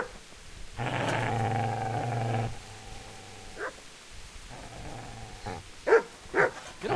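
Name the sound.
dog growling and barking in video game Kingdom Come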